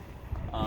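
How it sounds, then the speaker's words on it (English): Wind buffets a microphone outdoors beside a white-hulled 2013 Sea Ray 410 Sundancer boat in a low, rumbling gust that swells toward the end, close and muffled, with no clear talk. "Sorry about the wind first off, it is a little windy out"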